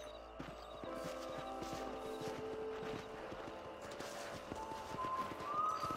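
A horse in Red Dead Redemption on Xbox 360 clops along with rhythmic hoofbeats, bits of game soundscape and a rising whinny-like tone near the end, all fairly quiet.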